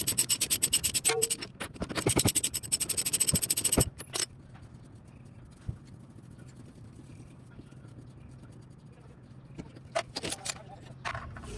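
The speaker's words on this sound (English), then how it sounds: "we're going to use a socket or a wrench to remove the jam nut the rest of the way." Rapid metallic clicking and scraping from a socket or wrench working a jam nut loose on a Chevy Equinox inner tie rod, busy for about four seconds, then mostly quiet with a few faint clinks near the end.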